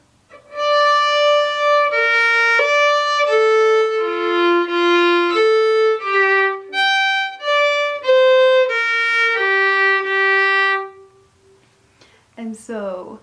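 A fiddle plays the last section of a tune, a bright run of sustained, singing notes that moves up and down, close and clear. The melody stops near the end and a brief sound follows.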